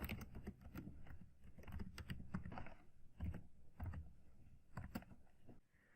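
Close, quiet typing on a computer keyboard: irregular bursts of soft key clicks with brief pauses, no voices.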